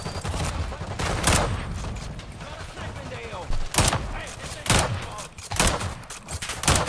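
Gunfire in Call of Duty: Black Ops 6 comes as several sharp shots and short bursts spaced across the scene, over a busy battle background, with voices talking in between.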